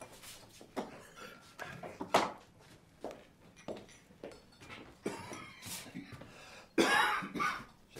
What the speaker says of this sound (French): J'aime pas cette toux.